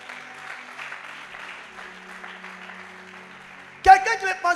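A church congregation bursts into brief, loud applause for the Lord at the very end, after a stretch of a preacher speaking softly.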